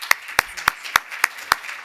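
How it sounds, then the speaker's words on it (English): A handful of sharp, evenly spaced claps, about six in two seconds, ring out at a lecture on the history of international finance. They sound like a small, slow round of applause rather than a full crowd. "Round of applause for Paul."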